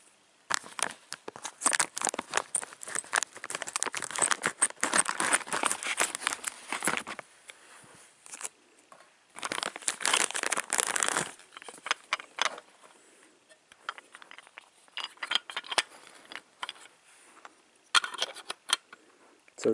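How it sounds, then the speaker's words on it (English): Scissors snipping and slicing through packing tape on a cardboard package, bursts of crisp cutting and crinkling tape noise separated by brief pauses, close and fairly quiet with no talking. "I'll just cut it with the scissors."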